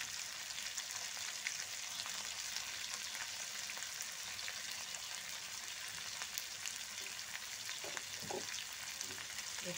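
Bottle gourd and potato curry with salt and turmeric frying in a pan, a constant soft sizzle with faint crackles and occasional light stirring taps.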